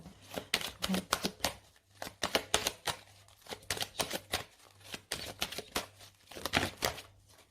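Tarot cards are shuffled and laid down in quick, papery bursts of flicks and soft slaps, close and fairly quiet, coming in uneven clusters with short pauses between them.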